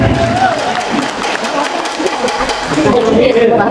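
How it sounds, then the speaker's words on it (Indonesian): Audience at an Indonesian political campus gathering claps and cheers in a loud, dense burst of applause, with voices talking over the clapping throughout. "Kasih tepuk tangan yang meriah lagi dong"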